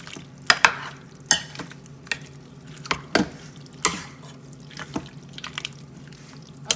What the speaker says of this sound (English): Just going to put that in there and stir that all together.